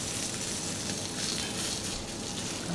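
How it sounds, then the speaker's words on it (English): A pollock fillet sautéing in olive oil in a pan, giving a steady, dense sizzle and crackle up close without a break, with no speech over it. "And then just start to saute it off"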